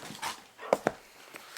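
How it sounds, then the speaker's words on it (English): Dogs playing indoors, with a few short sharp barks and yips in a quick cluster mid-clip, close by and fairly loud, between quieter snuffling sounds. "The dogs are playing."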